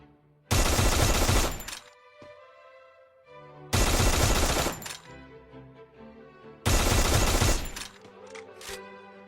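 Three loud, rapid bursts of automatic gunfire aimed at a training bot in the Free Fire game, each about a second long and separated by short gaps, with ringing tails and clinks afterward.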